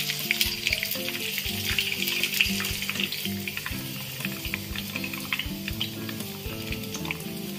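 Fish fingers frying in hot oil, a steady close sizzle and bubbling that runs the whole time, with occasional light clinks of a utensil against the pan.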